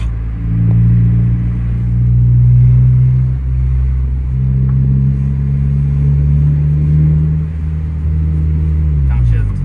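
A 2013 Honda Civic Si coupe with an Invidia N1 catback exhaust runs loud and close, its deep engine drone swelling and easing as it revs, then dropping off near the end; voices speak faintly beneath it.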